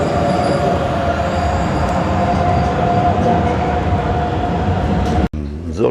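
A Hamburg S-Bahn train pulls into a station, a loud continuous rumble of wheels and motors with a steady hum and faint squeal that drops away sharply near the end.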